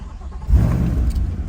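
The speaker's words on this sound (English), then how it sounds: "I'm gonna press number 1, and now the car will start." Chevrolet Corvette C8 engine firing up, with a short quiet lead-in followed by a deep, loud low rumble that swells at startup and settles into a steady idle.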